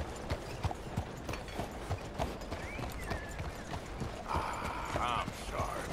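Horse hooves clip-clop steadily in Red Dead Redemption 2, a close, rhythmic trot of repeated clopping with creaks and occasional game sounds layered over it.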